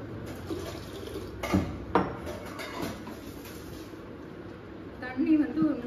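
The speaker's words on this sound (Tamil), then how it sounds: "ஸோ இதுக்கு வந்து நம்ம தண்ணி வந்து ஊற்றிக்கலாம்" Water poured into a pot of washed lentils in a home kitchen, a soft splashing fill with a few sharp clinks of metal vessels, while someone talks over it.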